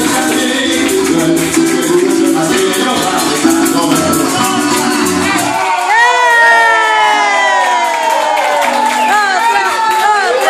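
A crowd of adults and children cheers, whoops and shouts at someone's birthday party, a loud dense wash of voices that shifts into higher excited squeals and calls partway through.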